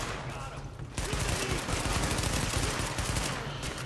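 Sustained automatic gunfire in the video game The Division, loud rapid bursts filling the whole clip with dense rattling shots.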